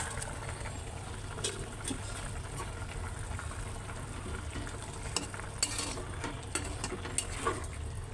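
Gulsha fish dropped into hot oil in a home kitchen, frying with a steady low sizzle and bubbling, punctuated by a few sharp crackles and spatters, fairly faint throughout.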